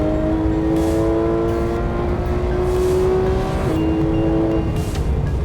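A Porsche 911 GT3 drives on a race track, its engine a loud, steady droning tone with a slight pitch shift, heard close and continuous throughout.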